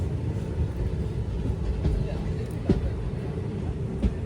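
A passenger train running on the Talguppa to Shivamogga line toward Chikkamagaluru, heard from inside; a steady low rumble and rattle of the carriage with a few faint clicks of wheels over rail joints.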